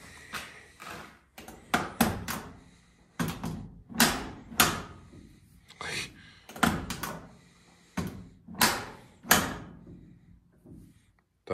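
Doors of a 1970 Ford F250 farm truck are opened and shut again and again, a dozen or so sharp metallic clunks and latches coming in quick pairs, close and fairly loud with no talk.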